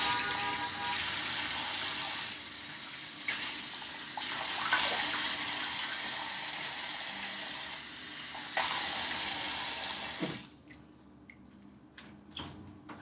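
Water from a tap runs in a steady, strong stream for about ten seconds while a face is being washed, then cuts off, leaving faint drips and small splashes close by.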